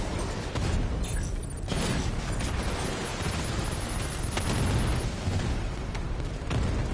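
Missile explosions and heavy combat noise in Batman Arkham Knight, with dense booming blasts and mechanical clatter filling the whole stretch, loud and continuous, no voices.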